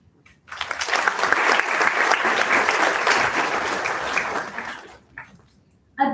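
Audience at an annual awards ceremony breaks into dense, even applause lasting about four and a half seconds. The clapping then fades, and a brief unrelated sound follows.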